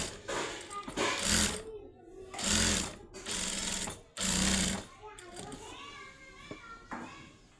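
A sewing machine top-stitches over a salwar kali panel in bursts of rapid mechanical whirring that start and stop, with a voice talking between and over the runs.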